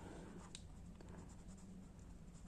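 A pen writing down a measurement for a bra underwire frame, faint scratchy strokes in short bursts against a quiet room, close and soft.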